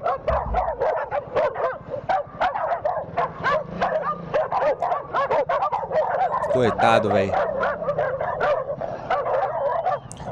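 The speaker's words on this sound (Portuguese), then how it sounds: "O cara foi cercado ali pelos cachorros." Several dogs bark rapidly and repeatedly, close by, with a honking cry in the middle and brief speech mixed in.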